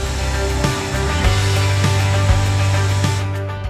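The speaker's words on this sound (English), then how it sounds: "I just have to drill some spot welds to get this piece out" Power drill boring out spot welds on the rusted floor of a flood-damaged Corvair, a loud steady whine close by with the motor pitch shifting as each weld gives, no voices.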